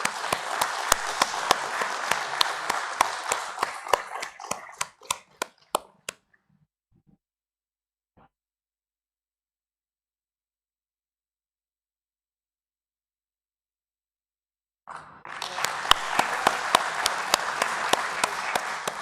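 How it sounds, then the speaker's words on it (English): An audience at an IPO listing ceremony for DCX Systems applauds dignitaries with dense clapping that thins out into a few scattered claps and silence, then bursts back in loudly for a second round. "please give a huge round of applause and a warm welcome to all our dignitaries today"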